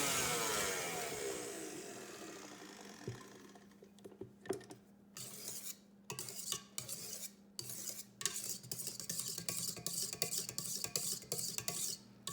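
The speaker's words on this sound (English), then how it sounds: "Let's give it a stir" Cake batter being stirred into an egg mixture for a dulce de leche caramel cake, heard as a steady scraping swirl that gives way to a run of sharp clicks and taps of utensil against bowl, close and without voices.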